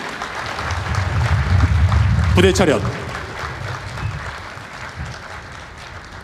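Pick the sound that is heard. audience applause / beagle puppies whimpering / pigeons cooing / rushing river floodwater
audience applause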